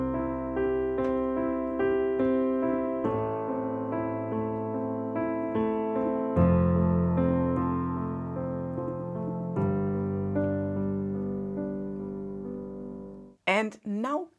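Piano chords played with octaves in the left hand, a steady sequence of sustained harmonies changing every few seconds, close and clear, ending abruptly with a brief voice at the very end.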